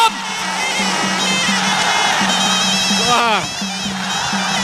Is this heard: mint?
no